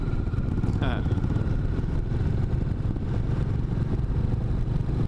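A Royal Enfield Classic 350 motorcycle is ridden at steady speed, its engine giving a constant mid-low rumble. Heavy wind roar on the rider's helmet runs under it throughout.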